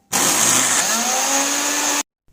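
A stick blender blending thick hummus whirs loudly for about two seconds, its high motor whine steady with a slight rise in pitch, then cuts off abruptly.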